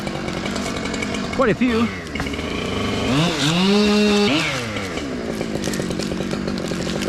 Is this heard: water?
no